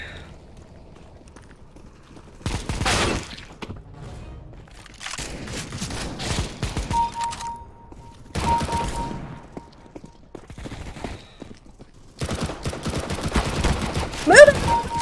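Gunfire bursts in the video game CS:GO come in separate volleys of rapid shots, loud and close, with quieter gaps between them.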